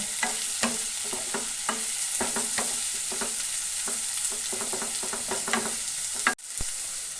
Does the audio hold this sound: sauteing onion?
yes